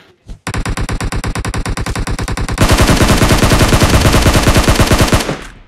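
Rapid, continuous gunfire in the mobile battle-royale game PUBG Mobile, a loud unbroken burst of shots that grows denser partway through, with no talk over it.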